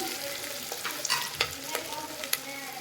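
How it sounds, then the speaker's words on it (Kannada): Sprouted horse gram tips into a hot pan for a horse gram sambar and sizzles and crackles steadily, with a few sharper pops and stirring scrapes over the frying hiss. "ನೋಡಿ, ಇವಾಗ ನಾನು ಮೊಳಕೆನ ಹಾಕ್ಕೊತಾ ಇದ್ದೀನಿ"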